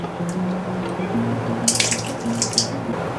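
Water from cooked pasta being drained out of a bowl: a steady close trickle and splashing run, with brighter spattering drips toward the end and no talking.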